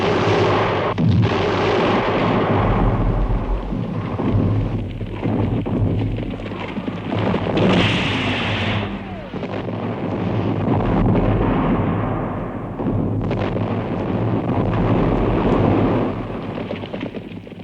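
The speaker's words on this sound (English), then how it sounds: "The clamor of the guns continued." Heavy artillery guns firing in the Great War, a continuous loud rumble of booming blasts layered over one another with no clear gaps.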